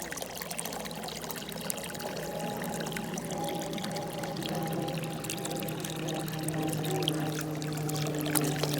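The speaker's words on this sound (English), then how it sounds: "Remove the plug, and down it goes. So you can see it coming down to each level." Water trickles and pours down through the levels of a Greenstalk vertical planter, a faint, continuous dribbling stream that runs steadily for nearly nine seconds with no talking.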